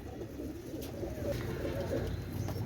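Sakhi Pakistani pigeons coo softly and repeatedly, close by, with low murmuring calls layered over steady background noise.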